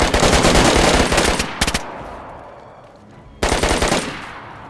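Gunfire in the video game DayZ: two loud bursts of rapid automatic fire, one long and one short, a gap of fading echo, then a third burst starting up.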